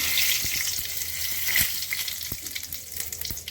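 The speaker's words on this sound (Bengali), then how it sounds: "জিরে ফোড়ন করছি, গরম মশলা দিলাম, তেজপাতা দিলাম" Cumin seeds, garam masala and bay leaves sizzle in hot oil for a Bengali mutton and potato curry, giving a steady bright crackling hiss with scattered small pops, up close and fairly soft.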